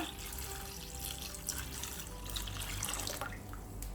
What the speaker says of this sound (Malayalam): ഇതിലേക്ക് മുന്തിരി മുങ്ങിക്കിടക്കണ അത്രയും വെള്ളം ഒഴിച്ചു കൊടുക്കുക